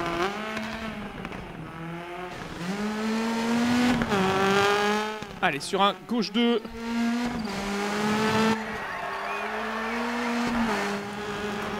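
A Ford Focus rally car in DiRT 4 revs and drives hard on a stage, its steady engine drone climbing and falling through gear changes, with a burst of skids or impacts midway; someone talks throughout and a co-driver calls notes.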